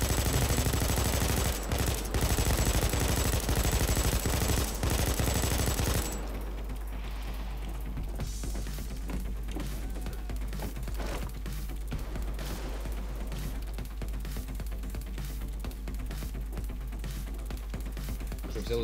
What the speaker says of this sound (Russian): У меня пулемет мощный